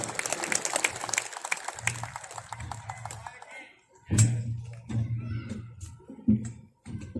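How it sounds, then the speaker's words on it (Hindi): Audience applause at a Jat community Diwali gathering after a minister's speech, a scattered, moderate patter of clapping in the first seconds that fades, followed by someone speaking over the hall. "तालियां उनके संबोधन और उद्बोधन के हिसाब से थोड़ी कमजोर थी आपकी"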